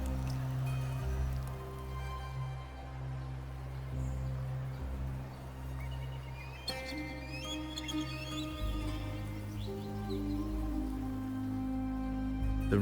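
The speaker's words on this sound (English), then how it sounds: "The rain is passing." Steady rain pattering in the video game Wuthering Waves, a continuous wash of drops on surfaces under layered ambient music and occasional chirps, moderately loud throughout with a shift in tone partway through.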